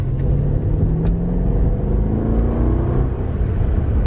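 A high-mileage BMW car's engine, with the check engine light on, idles steadily nearby as a continuous low rumble with a faint whir, no voices over it.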